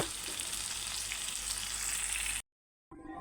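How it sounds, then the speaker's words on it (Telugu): Potatoes frying in hot oil in a kadai give a loud, steady, dense sizzle that fills the clip, then break off into brief silence before the sizzle resumes more faintly. "నేనైతే పొటాటో ఫ్రై చేస్తున్నాను"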